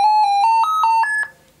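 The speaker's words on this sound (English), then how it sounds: "I'll get that beeping sound to show that there is no RAM" A Lenovo ThinkPad T470 laptop with no RAM installed gives a run of seven short error beeps in quick, even succession, each a bright tone with a few pitch steps, then silence.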